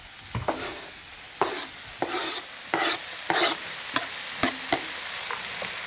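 Garlic slices go into a frying pan with a series of sharp clacks and scraping stirs, each knock followed by a bright sizzling hiss, close and fairly loud.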